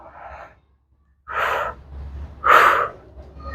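Deep breaths during a guided breathing exercise, one soft exhale followed by two strong, airy, close inhale-exhale rushes with short pauses between, no talking.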